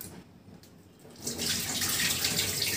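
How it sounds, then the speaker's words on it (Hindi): Rice being washed with water in an Indian home kitchen: after a quiet start, water runs and splashes steadily and close by for the rest of the clip, with no voices. "तो यहाँ दे धो रही है चावल।"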